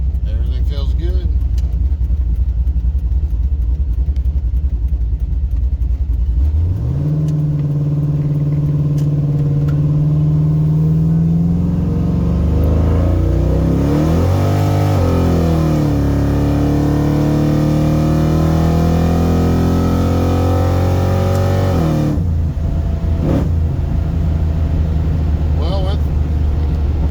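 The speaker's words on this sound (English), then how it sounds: "Started spinning in first, clicked it in second, came to, went through all 3 gears" A car launches hard with wheelspin and accelerates through three gears, the engine note climbing loudly and close, dropping at each shift before rising again, then fading as the run ends.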